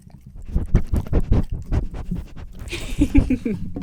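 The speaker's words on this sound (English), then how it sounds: "Yeah, that's my dog." A pet dog pants and makes snuffling noises close to the microphone in quick, rhythmic breathy bursts that continue throughout, with a brief scratchy rustle near the end.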